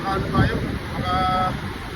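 Sea waves wash near the shore in a steady rushing roar with gusty wind noise across the microphone, with no clear breaks between surges.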